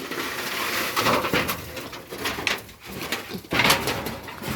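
Pigeons coo softly in a steady, murmuring chorus, with some scuffling and faint rustling noise mixed in throughout.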